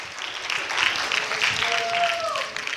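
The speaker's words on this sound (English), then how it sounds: "Let's give him a round of applause for his snoring abilities." Audience applause in a high school presentation hall, a steady wash of clapping under light crowd murmur, with a faint tonal whistle near the end.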